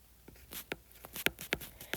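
Calculator keys tapped during a geometry lesson on rhombus diagonals, a handful of short, quiet clicks in an irregular rhythm, the last few sharper and closer together, with no voices.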